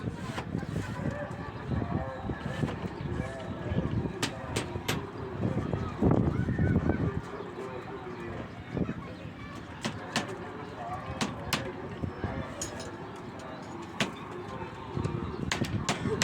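Pigeons coo and stir in a rooftop loft, soft repeated calls with occasional wing flutters, heard under people talking nearby.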